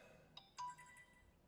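A phone ringtone chimes in two short bright bursts, faint and alone against a quiet outdoor backdrop at a lake.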